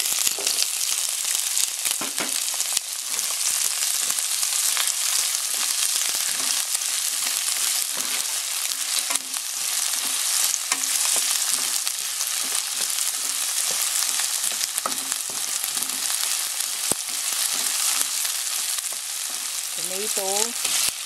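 Garlic and onion fry in a pan for pork menudo, giving a continuous loud sizzle with occasional stirring scrapes throughout.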